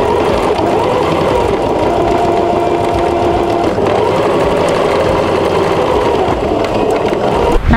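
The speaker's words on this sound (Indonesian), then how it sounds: "lalu kita jahit pinggirnya ya teman-teman" A sewing machine stitches the edge of an ecoprint tote bag, giving a loud, continuous mechanical whir and rattle at a steady speed through the whole stretch, with no talking.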